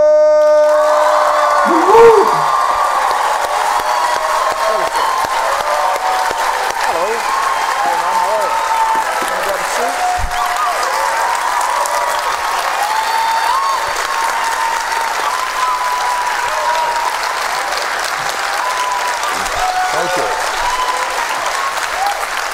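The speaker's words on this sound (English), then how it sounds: "That was a rapturous applause." Loud, sustained applause from a large crowd greeting Senator Bernie Sanders, with scattered cheers and whoops, continuing steadily throughout.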